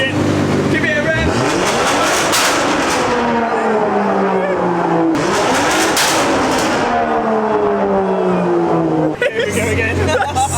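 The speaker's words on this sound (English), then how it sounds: "Tuned it. Give it a rev." A tuned BMW 140i engine revs loudly up and down, rising and falling in sweeping pulls, with voices chattering underneath.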